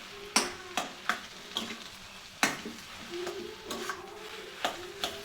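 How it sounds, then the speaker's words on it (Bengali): Vegetable chop mixture with garam masala stirred in a frying pan, a soft sizzle punctuated by regular spatula scrapes and taps against the pan, close and quiet, no talking. "ভালোভাবে মেশাতে থাকবো।"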